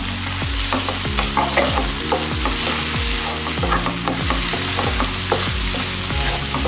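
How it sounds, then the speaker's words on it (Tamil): Chopped potatoes sautéed in oil for a tomato kurma, with a steady sizzle under repeated scraping and stirring strokes of a spoon against the pan, close and continuous. "அதையும் அப்படி எண்ணெயிலேயே நம்ம வதக்கிக்கலாம்"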